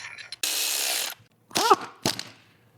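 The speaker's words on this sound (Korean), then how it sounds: "볼트 가체결하고" A tool tightens a bolt on a BMW during a consumable-parts replacement, with a short whirring burst, a pause, then a couple of sharp mechanical ratcheting bursts nearby.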